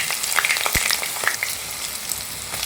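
Chopped onion hits hot oil already seasoned with two cardamom pods and cinnamon, giving a steady close sizzle and crackle with small pops and stirring scrapes, and no voices.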